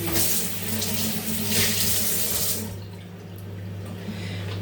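Water runs noisily from a tap with a steady hiss, then the flow eases and quiets over a continuous low hum; no talking.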